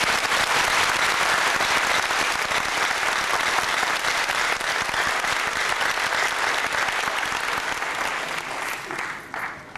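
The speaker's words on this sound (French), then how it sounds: "cette œuvre que nous applaudissons très très" An audience at a book presentation applauds loudly and steadily, a thick sustained wave of clapping that thins slightly toward the end.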